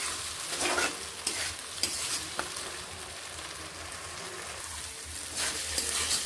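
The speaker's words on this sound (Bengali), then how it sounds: "ভালোভাবে মশলা ভেজে নেব, কষিয়ে নেব।" Spices for dhaba-style ghugni fry and get stirred in a pan: a low steady sizzle with repeated scraping strokes and a few crisp clicks from the spoon, close and moderately loud.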